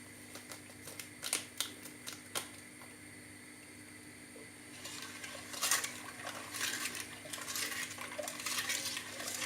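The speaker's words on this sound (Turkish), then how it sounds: "Evet şekerim erinceye kadar karıştırıyorum" A spoon stirs milk and sugar in a pot. Sharp clinks against the metal come first, then a busier run of scraping and tapping strokes, all close and fairly quiet.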